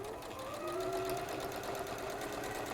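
A sewing machine stitches half-inch quilt triangles, its steady rapid needle chatter and motor hum running evenly and close without a break.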